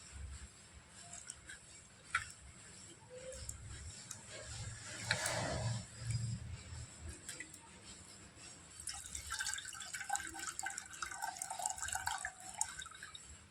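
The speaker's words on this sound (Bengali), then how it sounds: "আরও একবার জল দিয়ে আমি ভালো করে ধুয়ে নেব।" Sago pearls are washed in water by hand, giving faint splashing and dripping with a brief louder swirl midway and light clinking toward the end.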